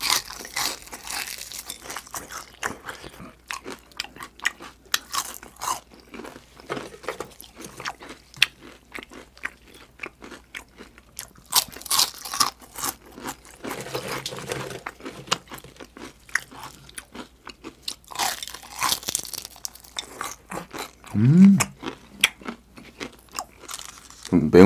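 Close, crisp crunching and biting of crispy fried chicken skin in a mukbang eating show, with dense bursts of chewing and crackling throughout and occasional speech near the end.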